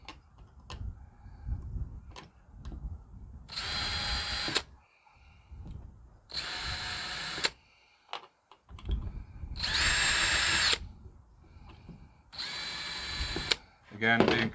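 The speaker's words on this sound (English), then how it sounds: "I'm going to pre-drill them." A power drill pre-drills screw holes into the wooden legs of a wedding backdrop, four loud whirring bursts of a few seconds each, separated by handling clatter and quieter pauses.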